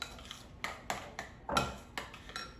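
A spoon stirs shredded cheese into a beer bacon cheese dip in a bowl, giving a series of close, distinct scraping clinks in an uneven rhythm, with no one speaking.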